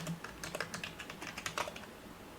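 Typing on a computer keyboard, a quick close run of soft key clicks in an irregular rhythm, with no one talking.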